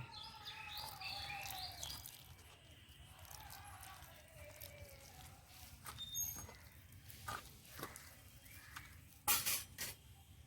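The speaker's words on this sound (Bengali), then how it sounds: "এবার আমি অল্প অল্প জল দিয়ে ভালো করে ব্যাটারটা তৈরি করে নেব" Gram-flour batter for crispy eggplant fritters is mixed by hand with water added bit by bit, giving soft wet stirring and scattered clinks of a bowl, while birds chirp faintly in the background.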